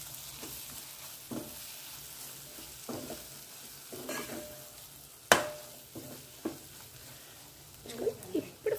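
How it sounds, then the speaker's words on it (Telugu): Fish stirred by hand into garam masala in a frying pan for a Magha fish curry: a quiet bed of sizzling broken by scattered scraping and clacking strokes, with one sharp clatter midway and a few louder knocks near the end. "ఇప్పుడు ఫిష్ వేసి కలుపుకుందాం ఒకసారి"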